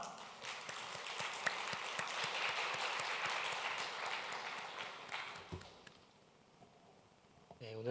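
A church congregation at a Sunday afternoon service gives the pastor a welcoming round of applause. Dense, lively clapping fills the room for about five seconds, then thins out and fades to quiet.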